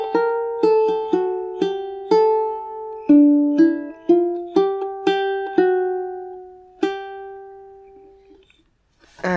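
A ukulele plucks the medieval dance tune Horse's Branle note by note in a lilting, dance-like rhythm, each note ringing briefly before fading, played alone and close.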